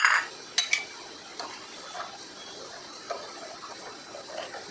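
A spoon stirs sugar into milk coming to a boil in a pot, giving a few sharp metal clinks against the sides followed by softer, sparse scraping, close and fairly quiet with no talking.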